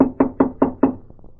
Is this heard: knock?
yes